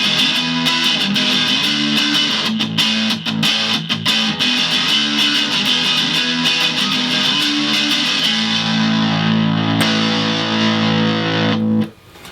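Squier Black and Chrome Standard Stratocaster HSS Fat Strat with noisy pickups, played through heavy distortion: steady loud chugging riffs with buzzing noise under them, ending in a ringing chord that cuts off.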